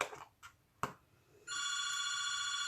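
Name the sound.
telephone ringing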